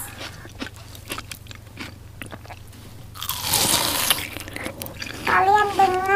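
Crunchy chewing of a salty, kerupuk-like cracker during a mukbang, with a loud burst of crisp crunching mid-clip. Speech is heard before and after the crunching.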